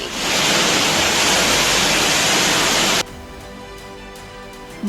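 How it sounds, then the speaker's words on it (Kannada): The flooded Parvati River in rain-swollen Himachal Pradesh roars beside a highway as a loud, steady rush of water for about three seconds, then cuts abruptly to a much quieter background. "ಹೆದ್ದಾರಿ ಪಕ್ಕದಲ್ಲೇ ಪಾರ್ವತಿ ನದಿ ಅಬ್ಬರ ಎಲ್ಲೆ ಮೀರಿದೆ"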